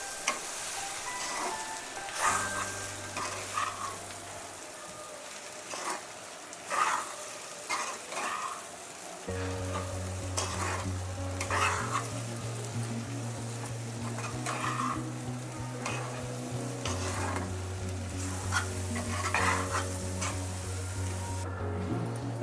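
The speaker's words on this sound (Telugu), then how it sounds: "ఇది ఒక 2 నిమిషాలు మొత్తం కలిసేటట్లు కలిపేద్దాం." Poha mixed with spice powder in a pan gives soft scraping, stirring and light sizzling, with a steady low hum underneath and occasional clinks of the spoon.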